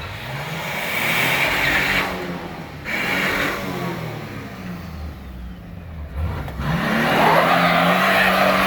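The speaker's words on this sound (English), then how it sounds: "I'm on the wrong side of the burnout, folks." A Nissan Pathfinder with a 5-speed manual roars through a burnout, its engine held at a high, droning rev while the tires grind and squeal loudly, with brief dips in power before surging again.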